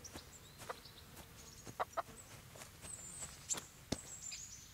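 Chickens on a farm in the video game Kingdom Come: Deliverance, scattered soft clucks and brief squawks over a quiet ambient bed of distant countryside sound.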